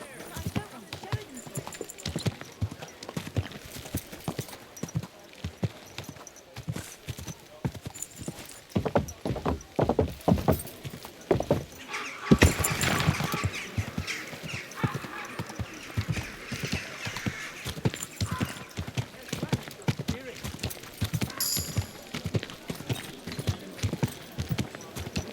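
Horse hooves clip-clop rhythmically on the ground during riding in Kingdom Come Deliverance 2, steady and close for the whole stretch, with a horse whinnying and voices talking in between.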